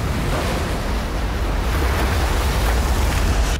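Big ocean surf on a remote atoll, a dense continuous roar of breaking waves mixed with wind buffeting the microphone, loud and close with no voices.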